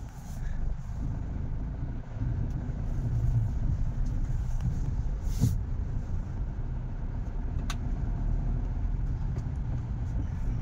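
A car, just past a cold start, pulls away, its engine a steady low rumble that stays even and fairly close for the whole stretch, with no clear talk.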